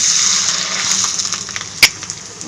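Papad frying in hot oil in a home kitchen, a steady close hiss and bubbling sizzle throughout, with one sharp clink of a utensil near the end and no voices.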